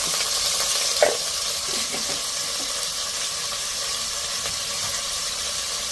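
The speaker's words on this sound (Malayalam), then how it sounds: "നല്ലതുപോലെ വഴറ്റുക." Onions with green chillies and salt sauté in a hot pan for chicken masala, giving a steady, close sizzling hiss with a few scraping stirs near the start and no speech.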